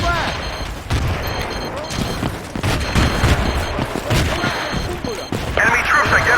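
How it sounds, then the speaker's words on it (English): A frag grenade thrown and exploding in the video game Battlefield 2, among heavy thumping blasts and scattered gunfire in a busy battle, with voices calling out over the din. "Throwing frag."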